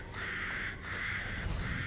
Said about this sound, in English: Oh, well, there's birds.